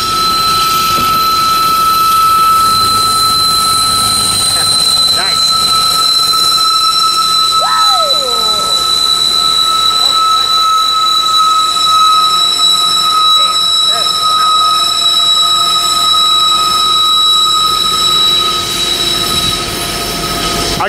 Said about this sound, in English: Here comes 3045 bringing up the rear of this manifest.